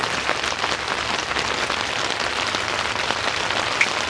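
Steady rain falls outdoors, a dense, even hiss of drops pattering on surfaces nearby. It stays constant and fairly loud throughout, with no voices.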